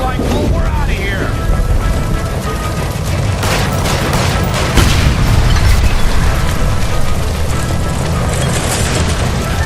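A gas line shot through by the stove bursts into a loud, sustained explosion in the video game L.A. Noire, a dense roaring blast with rumbling debris filling the whole stretch, with shouted voices mixed in.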